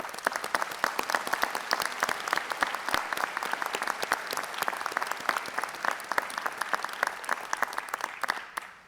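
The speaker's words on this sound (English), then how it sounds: "let's take a moment to give a round of applause to your supporters" Convocation audience applauding graduates' supporters, a dense, even wash of many hands clapping that holds steady at moderate loudness for several seconds before tapering off at the end.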